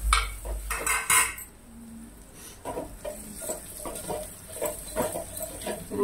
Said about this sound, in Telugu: అందులోనే మన కాకరకాయ ముక్కలు వేసుకొని ఒక 2 నిమిషాలు వేపుకుందాం.